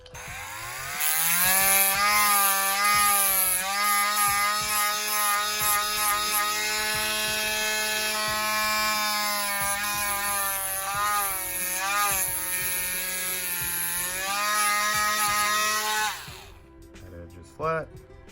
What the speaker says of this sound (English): You want to get your sanding bit now